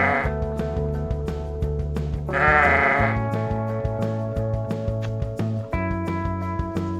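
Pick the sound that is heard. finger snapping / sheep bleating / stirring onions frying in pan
sheep bleating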